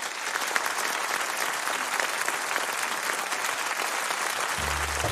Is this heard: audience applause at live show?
yes